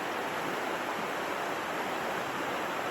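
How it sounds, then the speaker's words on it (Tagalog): Flowing water beside a campsite in Jasper, a steady, even rushing hiss heard alone and fairly close for a few seconds. "malapit sa patubig tsaka nakaka-relax talagang tunog ng tubig dyan"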